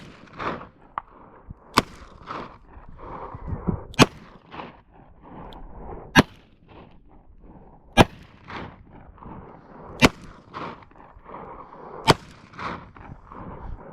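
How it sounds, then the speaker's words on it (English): A .45 Colt revolver fires at a small rock outdoors, with sharp loud reports spaced about two seconds apart, six shots in all, separated by quieter rustling and handling sounds. "I'll shoot that little rock up there."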